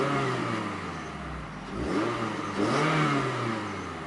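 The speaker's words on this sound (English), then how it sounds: "when the four-cylinder engine up front actually starts, it does provide a nice little growl." Four-cylinder engine of a 2015–2016 Scion tC six-speed revving, a mid-pitched growl rising and falling in two blips over a steady idle, heard from nearby.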